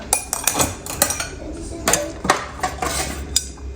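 Dishes, metal pots and cutlery clatter and clink as they are loaded into a dishwasher, with a steady run of close, sharp knocks and a voice faintly in the background.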